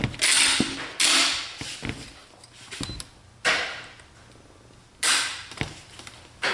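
A gauge measures trigger pull on a Remington shotgun (870, 1187 or 1100 family), giving three sharp mechanical snaps as the hammer releases, each followed by brief clicking and creaking, close up with no speech.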